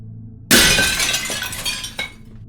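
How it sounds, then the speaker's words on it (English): A glass window shatters during a storm: a sudden loud crash followed by about two seconds of tinkling, scattering shards, with a second smaller impact near the end before it cuts off. "the crash of breaking glass cut through the storm"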